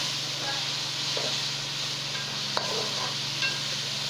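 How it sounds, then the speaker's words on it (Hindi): Tomatoes and green chillies fry in masala in a kadai for an okra and mutton stew, a steady close sizzle and hiss with a low hum and occasional spoon clinks. "और अब इसमें डालेंगे टमाटर और हरी मिर्च, इसका मसाला भूनेंगे"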